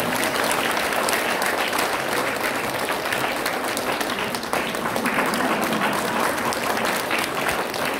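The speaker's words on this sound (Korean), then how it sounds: "큰 박수 부탁드립니다" A Korean church congregation applauds warmly during a gift presentation at an anniversary ceremony for retiring and newly ordained church officers. The clapping is loud, dense and steady throughout.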